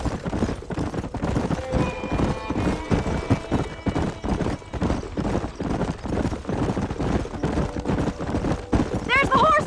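Hooves of several galloping horses pound in quick, overlapping clip-clop rhythm in the Red Dead Redemption video game, close and loud, with a horse whinnying near the end and a few faint tones under the hoofbeats.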